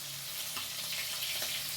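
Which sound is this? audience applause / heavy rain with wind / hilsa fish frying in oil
hilsa fish frying in oil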